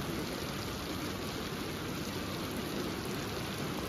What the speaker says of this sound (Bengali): এভাবেই সারা দিন রাত বৃষ্টি হচ্ছে, কখনো থামে কখনো বাড়ে